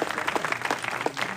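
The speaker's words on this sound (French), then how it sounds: "On peut les applaudir tous les deux" An audience applauds two staff members of a sports club, a brief, lively burst of many hands clapping close together, fairly loud and without speech.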